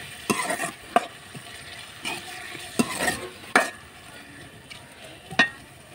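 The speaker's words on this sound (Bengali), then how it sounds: "এই যে বন্ধুরা দেখতেছেন এগুলো একটু ভালো করে কষিয়ে নেব আমি এখানে" Whole garam masala spices including cinnamon being sautéed in a pan, with repeated sharp scrapes and clacks from the spatula at an uneven rhythm over a soft, close sizzle.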